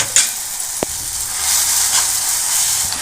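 Sour greens (puli keerai) sizzle in about fifty millilitres of oil in a pan, a bright steady hiss with a sharp clack of a utensil early on, close and alone without voices.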